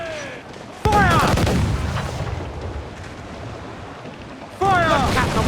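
Ship cannons in Assassin's Creed 4 Black Flag fire in heavy booming blasts, two big volleys with rumbling decay between them, under shouted commands and voices.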